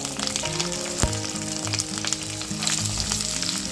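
Curry leaves and onions hit hot oil in a pan and sizzle and crackle loudly and continuously, with a sharp pop near the start and a steady frying hiss throughout.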